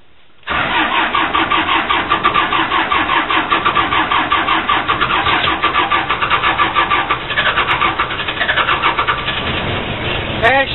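Diesel engine of a Case 580C backhoe cranks and fires up, then runs with a steady, loud, close mechanical chug for about ten seconds, with no talk over it.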